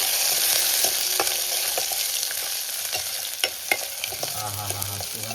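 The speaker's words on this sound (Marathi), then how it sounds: "कांदा जरा परतवून घेते." Onion sautéing in oil with garlic in a pan for a Konkani mandeli fish curry with raw mango: a loud, dense, hissing sizzle throughout, punctuated by a few spoon clicks near the end.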